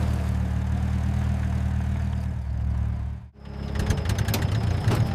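An auto rickshaw engine idles steadily in a deserted, dark street, a continuous low rumble that briefly dips in the middle before resuming with a rattly, knocking texture.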